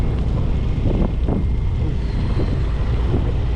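Strong wind gusting during a forest fire, a loud steady rush buffeting the microphone with heavier gusts throughout and no voices.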